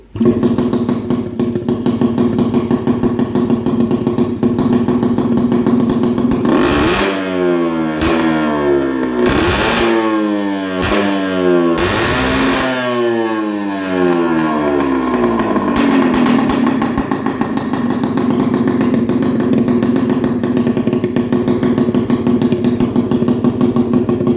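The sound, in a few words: Peugeot 50cc moped engine with 50 mm kit revving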